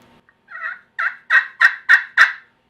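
A series of six turkey yelps from a pot call, rising in loudness, sharp and rhythmic, close by with no talking.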